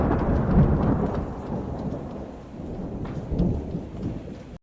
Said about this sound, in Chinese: 提示词比较简单，是打雷和下雨，我们点击这个运行就可以了。